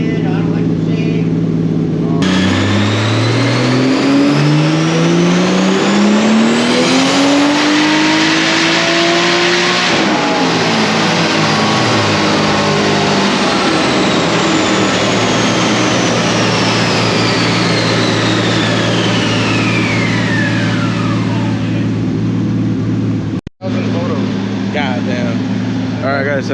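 A fully built Toyota Supra fitted with a cheap budget turbo kit revs on a dyno, its engine climbing in a long loud pull with rising whine and turbo hiss, then easing off before a brief cut.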